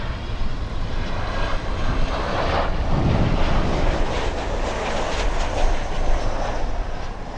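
British Airways Speedbird 209 Boeing 747 airliner arriving from Heathrow at Miami International Airport, a broad steady jet roar heard from a distance, swelling slightly as it passes, with no voices.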